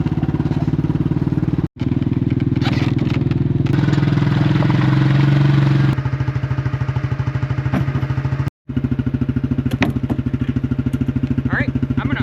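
An ATV engine runs steadily while hauling a trailer carrying a fish wheel down toward Alaska's Copper River, a mid-pitched motor drone with clattering and knocking from the load, briefly cut twice, close and loud throughout.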